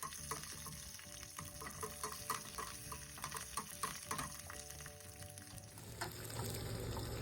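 Peanuts with dried red chillies and green chillies fry in oil for a lemon rice tempering, a soft, steady sizzle dotted with small crackles and pops that shifts to a smoother hiss near the end.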